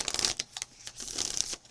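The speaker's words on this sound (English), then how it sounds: "One more shuffle." Tarot cards shuffled by hand in a quick sequence of papery riffles and soft slaps, fairly close and moderately quiet, with no voice over them.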